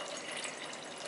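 Steady broadband splashing of liquid being poured into a container, continuous and close, with no talking.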